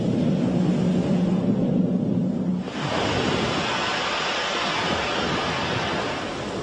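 Ocean waves surging against a coastal wave-energy chamber, a steady loud wash of surf noise with a deeper rumble early on, then a broader hissing swell continuing throughout.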